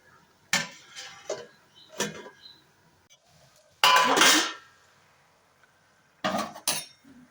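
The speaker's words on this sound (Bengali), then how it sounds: "চলো একটা ঢাকা চাপা দিয়ে দিই তারপর ফিরে আসছি" A lid set onto a cooking pot of rice and water, heard as a handful of sharp metallic clinks and knocks spaced apart, with one longer rattling scrape in the middle, close and otherwise quiet.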